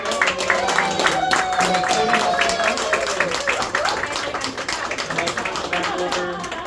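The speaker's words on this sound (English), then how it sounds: "Let's give a big round of applause to Angelica." An audience claps for Angelica after an announcement, a dense patter of hand claps with voices chattering and calling out over it throughout.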